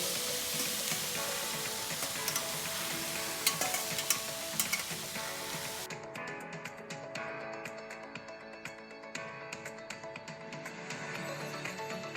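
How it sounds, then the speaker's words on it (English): Noodles being stir-fried in a pan, a continuous busy sizzle with scraping and tossing clicks that turns quieter and thinner partway through, with no voices. "Stir-fry noodles."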